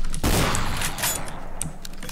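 Gunfire in Garry's Mod: a loud, sudden burst of shots hits hard at the start and then fades into a rough rattle with a few sharper cracks, up close and without any talking.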